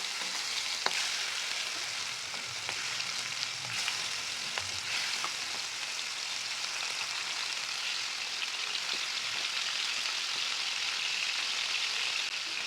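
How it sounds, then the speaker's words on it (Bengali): Chicken pieces frying in hot oil, a dense, even crackling sizzle that holds steady throughout with occasional faint clicks, close and with no voices. "এবার আমরা তেলের মধ্যে মাংসের পিসগুলোকে দিয়ে এপিঠ ওপিঠ করে খুব ভালো করে ভেজে নেব"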